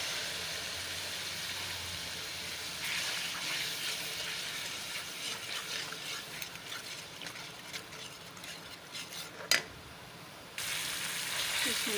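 Tomato paste, onion, garlic and ginger fry in oil with a steady, close sizzle, joined by stirring scrapes and a single sharp knock before the sizzling swells again.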